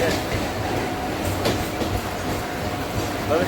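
Steady rumble and rattle of a moving Mumbai local train carriage, dense and continuous, with faint clacking of wheels on rails and muffled voices underneath.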